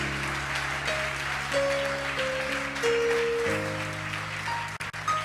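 Church congregation applauding, a continuous broad patter of hands held under sustained organ or keyboard chords that shift pitch, with a couple of sharp knocks near the end.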